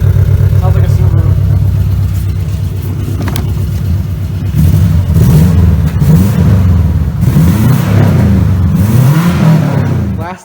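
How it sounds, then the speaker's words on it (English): A Subaru engine fitted with a new cheap exhaust header revs loudly and close, its low, throaty note rising and falling in repeated swells after a steadier idle, with a voice briefly talking over it. "Throw this thing in, see how it sounds. It sounds way better now. That's good. Sounds like a Subaru."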